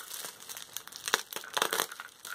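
A taped-up package holding a MSD sized figure head being pulled open, close crinkling and crackling of plastic and tape in a busy continuous burst.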